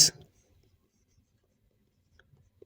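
A marker or chalk strikes a board once, loud and brief at the start, followed by a few faint taps and light scratches in an otherwise quiet room during a math lecture.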